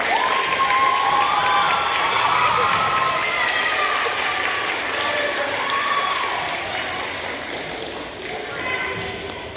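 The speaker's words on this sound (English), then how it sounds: "can we have one more big round of applause for all of our winners?" Audience applause and cheering at a graduation ceremony for award winners, a steady broad wash of many hands clapping with voices mixed in, fading slightly toward the end before swelling briefly again.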